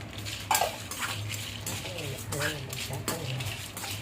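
Dried red chillies dry-roasted in an empty pan with no oil for mutton kuzhambu, with a spoon scraping and clinking against the metal in uneven knocks while a person talks over it.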